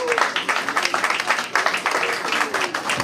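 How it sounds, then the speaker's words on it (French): Audience applause at a birthday party, a moderately loud, continuous wash of clapping across the whole stretch, with faint voices underneath. "Merci de l'applaudir."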